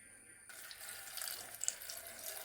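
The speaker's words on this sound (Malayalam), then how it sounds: "ഇച്ചിരി കൂടി ഒഴിച്ചു വെള്ളം ഒഴിച്ചു കൊടുത്തു" Water is poured into a clean cooking pot holding guava leaves for a homemade hair preparation. A soft, close splashing stream starts after a brief pause and runs quietly to the end.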